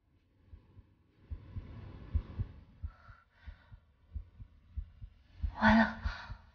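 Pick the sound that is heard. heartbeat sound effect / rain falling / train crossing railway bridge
heartbeat sound effect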